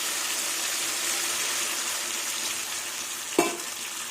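Water goes into a frying mustard-and-cumin spice masala for a tengra fish curry: a steady, close oil sizzle with one sharp splash and burst of spitting near the end.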